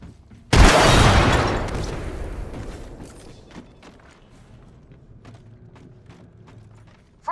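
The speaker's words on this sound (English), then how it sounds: "Chucking a frag grenade." A frag grenade explodes in Apex Legends with a sudden loud boom, then a long rumbling decay, followed by scattered clicks and small mechanical noises.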